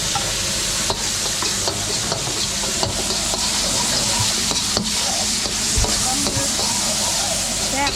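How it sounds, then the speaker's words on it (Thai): Squid stir-fried in a hot pan sizzles loudly and steadily, with repeated scraping stir strokes and clanks roughly every second, and no talk. "เดี๋ยวปลาหมึกผัดตรงนี้ ใส่ไป หมึกก็เตรียมสุก"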